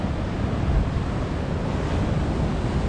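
High waves break on rocky Anjuna beach in Goa, a dense, steady roar of surf mixed with wind buffeting the microphone, with no voices.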